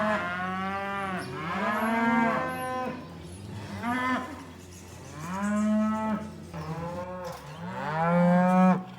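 Cows and calves penned together in a catch pen moo loudly and repeatedly, several overlapping long calls close by with no talking.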